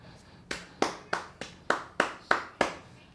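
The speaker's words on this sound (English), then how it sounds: "Please clap." Eight slow, separate hand claps ring out at an even pace of roughly three per second, close and fairly quiet, each sharp with a short room tail.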